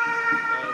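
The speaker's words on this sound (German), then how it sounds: "Krankenwagen." An ambulance siren sounds steadily at moderate distance during an outdoor street demonstration near a refugee home, a sustained tonal wail with faint crowd murmur beneath.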